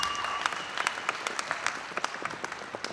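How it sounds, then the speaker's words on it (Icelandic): An indoor audience at a horse show claps as riders and horses enter the hall, a fairly faint, sparse patter of individual claps that thins out over a few seconds. "Gefið þeim gott klapp, þær eru komnar í salinn."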